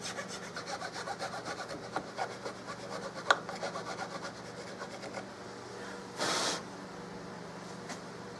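Rhythmic rasping strokes of sanding or filing inside a wooden stock of a 16 gauge side-by-side shotgun, a steady close back-and-forth scrape with a brief louder burst of friction near the end.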